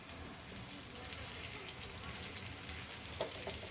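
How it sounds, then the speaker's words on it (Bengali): A bread-based snack fries in oil in a pan on a stove over medium heat, giving a soft, steady sizzle and crackle with a few brighter pops, quiet and continuous. "চুলার আঁচটা একদম মিডিয়াম হিটে রেখে আমি ভেজে নিব"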